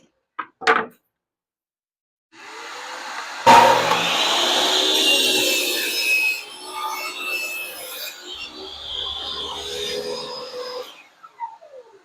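A cedar board being cut in half with a saw in a workshop, a short knock and then a rasping cutting sound of several seconds that fades off at the end.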